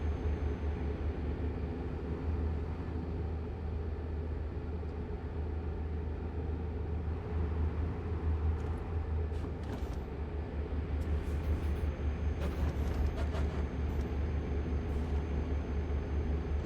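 Cascade semi-truck engine in American Truck Simulator, a steady low diesel drone and rumble running throughout, with a few faint clicks and ticks higher up near the end.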